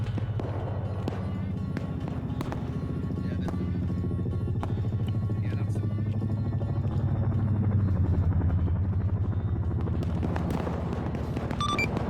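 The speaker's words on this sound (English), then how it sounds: "Now you can start faintly hearing that chopper coming in." Helicopter in the video game Arma 3, a deep rhythmic rotor thump droning steadily and growing slightly louder, with scattered sharp gunshot cracks and clicks over it.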